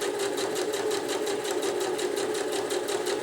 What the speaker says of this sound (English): we're just going to put an even stitch in there.